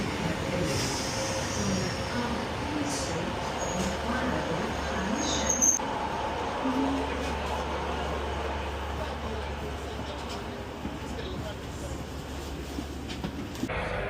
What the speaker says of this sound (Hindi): ये हमारी जो है ट्रेन आ गई है